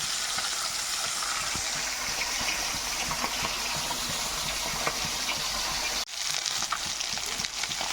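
Thin khoira fish frying in hot oil, a steady close crackling sizzle with fine popping that continues throughout, briefly disturbed by a handling knock near the end, with no talking.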